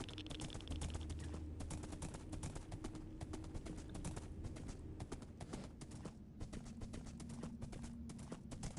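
Horse hooves clip-clop in a video game at a steady walking rhythm, moderately quiet and blended into a dense, constant bed of game ambience.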